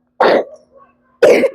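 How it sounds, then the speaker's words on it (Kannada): Two sharp, close coughs about a second apart, loud and abrupt with a faint throaty rasp between them, in an otherwise quiet space. "ಕೆಮ್ಮು ಬಂದ್ಬಿಟ್ಟು ಎಲ್ಲಿ ಹೋಗ್ತಾ ಇರೋದು?"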